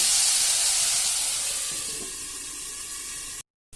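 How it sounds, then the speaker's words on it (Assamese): Vegetables steam and sizzle under a lid in a pan with a steady, loud hiss that gradually softens, then cuts off abruptly into brief silence. "এতিয়া আমাৰ ভাজিখিনি সিজিবলৈ অলপ সময় কাৰণে আমি ঢাকনখন লগাই দিম"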